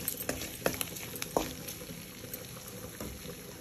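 Onions and egg masala sautéing in a pan for egg sukka fry, a faint steady sizzle with a few sharp scraping clicks of a spatula near the start, then a quieter hiss.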